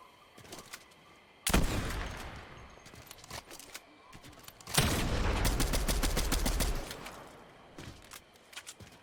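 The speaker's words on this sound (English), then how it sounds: "There are shots north." Gunfire in Fortnite Zero Build: two loud bursts of rapid shots, the second longer and sustained, separated by quieter stretches with scattered faint pops.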